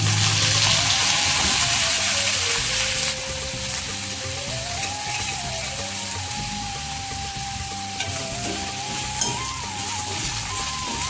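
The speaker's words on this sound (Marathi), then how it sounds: "थोडं तेल गरम झाले, त्याच्यामध्ये आता मी हे भोपळ्याचे काप टाकते" Steady hiss of pumpkin slices sizzling in hot oil, loud at first and then settling into a quieter continuous crackle with a few small pops.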